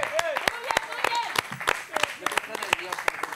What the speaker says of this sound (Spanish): Fuerte aplauso para Kini Vigo!